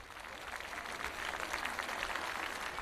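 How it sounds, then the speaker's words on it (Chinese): An audience applauds at a televised music competition show. The clapping is faint and distant, a dense crackle that swells slightly and holds steady. "给娜娜老师一点掌声鼓励吧"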